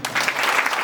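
A short burst of dense audience applause at a college event, many hands clapping together close and loud with no voices over it.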